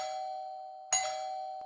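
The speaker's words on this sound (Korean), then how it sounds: "초인종을 여러 번 눌러도 반응이 없어서" An electronic doorbell chimes at the front door of a boyfriend's house, with a steady ringing tone followed by one sharp ding partway through. It sounds clear and fairly close, with no voices.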